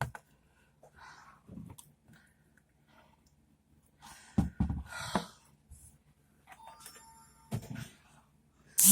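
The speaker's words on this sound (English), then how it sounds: "My phone has to beep in the middle of my video" A few scattered electronic beeps and tones from a phone sound in a quiet room, mixed with soft clicks and breathy noises.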